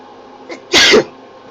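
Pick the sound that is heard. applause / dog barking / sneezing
sneezing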